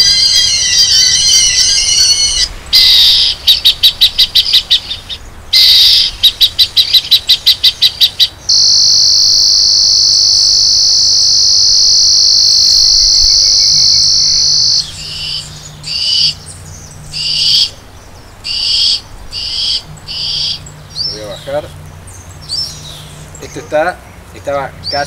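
Electronic pigeon repeller emitting a sequence of synthetic bird calls: rapid pulsed chirps, a long steady high-pitched tone, then owl-like hoots and insect trills, loud and close, with a low hum underneath.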